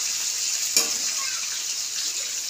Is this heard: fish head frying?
yes